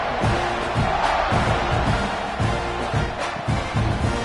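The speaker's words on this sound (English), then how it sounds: "They're set to kick it off, and this crowd now ready to get behind them." A big stadium crowd roars at kickoff in a college football video game, Utah State at Texas A&M, a dense, sustained wall of cheering with rhythmic chant-like swells, loud and continuous.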